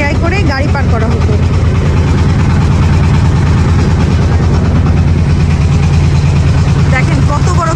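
A large ferry boat big enough to carry vehicles across a river runs its engine in a loud, constant droning rumble with a deep low throb, with voices half-buried beneath it.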